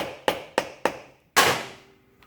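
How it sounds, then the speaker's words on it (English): Four sharp metallic strikes, the first three evenly spaced and the last one louder with a lingering ring, a hammer smacking a screwdriver to break screws loose on a Yamaha enduro motorcycle. "sometimes I'll just take a hammer like this and smack it and turn it"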